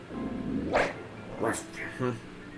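Mabosstiff, the dog Pokémon in Pokémon Scarlet and Violet, lets out three short, yelping barks spaced about a second apart, with a voice talking alongside.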